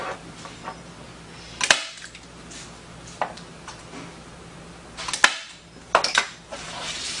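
Stapling canvas onto a wooden stretcher frame while stretching it tight, with two sharp, loud clacks of a staple gun about three and a half seconds apart, plus lighter handling and tapping in between.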